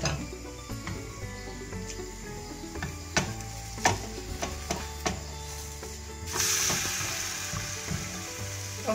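A chickpea flour omelette sizzles and fries steadily in a pan, with a continuous crackling hiss, occasional clicks and scrapes of utensils, and a brighter surge of sizzling near the end; no one speaks.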